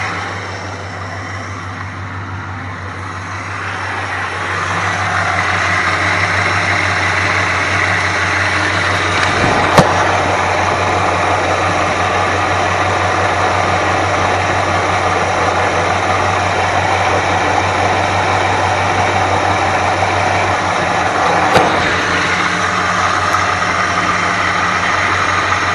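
A 1962 Plymouth Belvedere engine idles steadily and smoothly with a strong low hum, close and continuous, with no talking.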